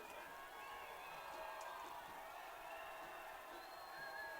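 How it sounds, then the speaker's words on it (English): Stadium crowd at a men's college soccer match between Stanford and UC Santa Barbara at Harder Stadium, a steady distant wash of cheering and murmur with a few faint whoops, continuous throughout. "Crowd starting to get into it."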